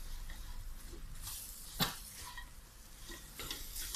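Palm sugar melting in a cooking pan while being stirred for a pork crackling chili paste, a soft continuous sizzle with scraping strokes and one sharp clink near the middle, heard up close with no talk.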